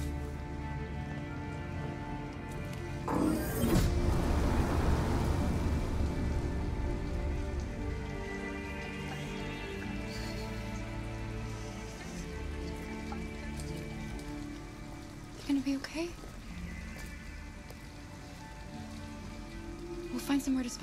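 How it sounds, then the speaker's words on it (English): Heavy rain pours steadily in the video game Detroit: Become Human, a constant hiss of drops drumming on surfaces across the whole span, with a few brief louder knocks and low game sounds mixed in. "it's pouring rain"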